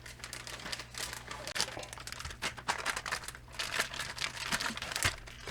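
Crinkly plastic vacuum bag rustling and crackling in irregular bursts as a beef cheek is pushed into it, close and moderately loud.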